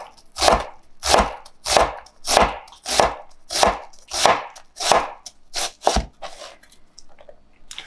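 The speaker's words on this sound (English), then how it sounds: "I always like to give it one last chop" A knife chops an onion into small dice on a cutting board, with about eleven sharp, evenly spaced strikes that come in a steady rhythm, close and fairly loud, and then stop.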